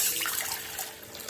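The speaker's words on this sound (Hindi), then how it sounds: "अब हम इसमें डालेंगे 1/2 लीटर वाटर" Half a litre of water pours into a pot on a stove while making kadha, a short, close, steady splashing gush.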